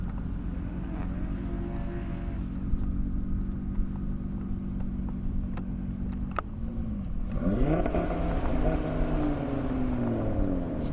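Audi RS3 at an airstrip drag racing event, a loud engine drone with rising and falling harmonics, then a sharp revving acceleration sweeping upward, heard from a moderate distance.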